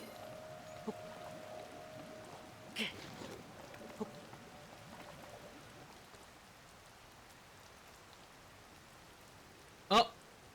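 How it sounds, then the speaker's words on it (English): Rain in a video game falls as a faint, steady hiss with a few soft splashes and a sharp transient near the end, no speech over it. "The rain won't stop."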